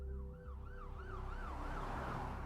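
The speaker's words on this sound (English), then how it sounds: "An ambulance soon arrived and paramedics sped the fugitive to the hospital" Ambulance siren wailing in a repeating rising-and-falling sweep, fairly faint, over a low rumbling vehicle engine.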